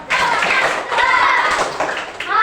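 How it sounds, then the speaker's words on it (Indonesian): Group of students and participants clapping a tepuk semangat cheer in unison at a UINSI Samarinda teacher-training gathering, a dense close burst of hand claps lasting a couple of seconds with voices mixed in. "mari kita tepuk semangat"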